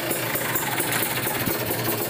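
Low, rough engine running at low RPM, a steady dense rumble with a faint rhythmic knock, close and continuous with no talk.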